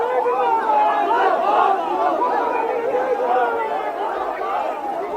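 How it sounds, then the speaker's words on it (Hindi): Protest crowd gathered at a sit-in site, many voices chanting and shouting slogans together in a steady, dense babble that stays loud throughout. "कुछ नारेबाजी तो हो रही है वहां पर।"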